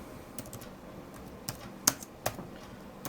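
Faint, sparse keystrokes on a computer keyboard, a few scattered taps with brief louder clicks over a quiet room background and no talk.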